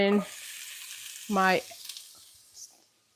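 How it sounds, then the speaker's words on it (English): Food sautés in a pan with a steady sizzle throughout. The hiss fades gradually, and a couple of brief tonal clinks or squeaks cut in early. There is no clear talk. "just saute these a little bit and then throw in the package"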